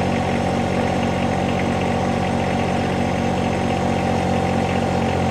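A motorcycle engine turns over steadily at low revs with an even, throbbing drone that stays close and loud throughout, with no talk.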